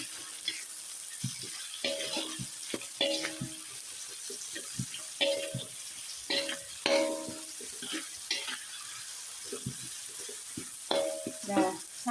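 Chilies frying in a pan with salt and mushroom stock are stirred, bringing a soft steady sizzle with intermittent scraping and clacking strokes of a spatula, close and moderately loud.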